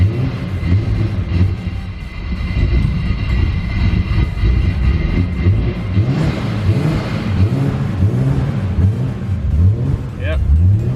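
A Toyota 86 fitted with a VR38 R35 GTR engine and running on E85 drones loudly and continuously while driving, with repeated surging swells in the engine note and no distinct turbo flutter standing out.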